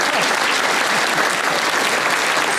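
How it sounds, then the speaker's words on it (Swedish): Loud, dense applause from an audience at an association gala in Borås, continuous close clapping from many hands throughout the short stretch. "Stora applåder till dig."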